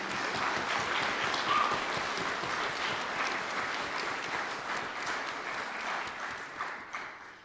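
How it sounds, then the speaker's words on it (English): Steady, dense applause from a large audience at a high school music hall of fame concert fills the whole stretch, staying loud throughout and easing only slightly toward the end. "Can we give them a big round of applause, please?"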